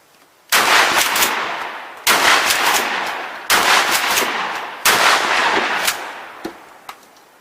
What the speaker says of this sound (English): 12 gauge shotgun, slug in buckshot, 7 to 10 yards, 4 rounds.